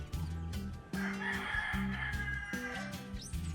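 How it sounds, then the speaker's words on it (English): A rooster crows loudly and close by at dawn above a Jamaican rooftop, with a long drawn-out call over background noise and faint clucking. "I really want to send a big shout out to this chicken for literally waking me every morning"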